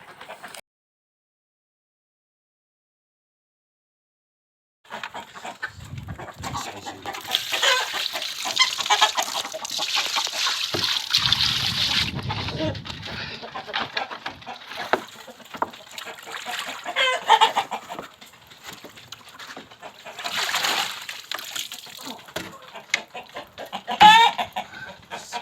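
Chickens cluck inside a coop on a farm that also keeps geese, in busy overlapping bursts of clucking and squawks that come and go, after a silent opening few seconds.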